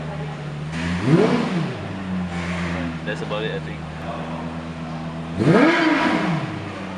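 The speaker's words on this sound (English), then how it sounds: "So the engine notes really differs when you change the mode." Lexus LFA engine in sport mode revving twice, each blip sweeping up and falling back, over a steady idle hum, close and loud, with people talking between the revs.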